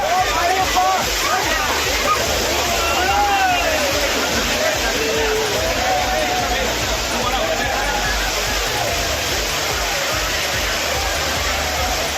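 Courtallam waterfall crowded with devotees bathing, a steady loud roar of falling water with splashing and an indistinct babble of many voices mixed throughout.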